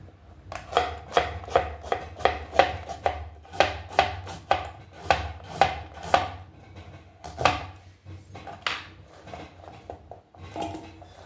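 A knife chops vegetables into round slices for chicken vegetable soup, striking the board in a quick, even rhythm of about a dozen close, crisp cuts, then a brief pause before a few more.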